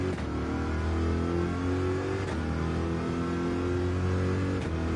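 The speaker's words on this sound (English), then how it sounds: "Just listen to the engine where it's at." Car engine in Gran Turismo 7 on the Sardegna circuit, revving steadily at high rpm with pitch shifts through gear changes, loud and continuous with no talk.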